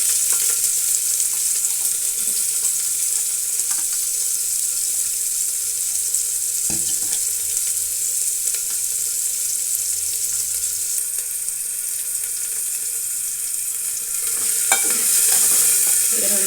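Loud, continuous sizzling of garlic and onion roasting in a hot pan for a Kannada bassaru with horse gram, with occasional stirring scrapes and a watery hiss; no voices.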